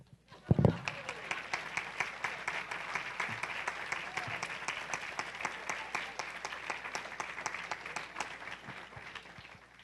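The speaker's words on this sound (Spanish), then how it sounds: "Dele un aplauso" Congregation applause at a sermon, thin and quiet, with individual claps heard in a quick, fairly even rhythm after a sharp thump at the start, continuing for nearly ten seconds.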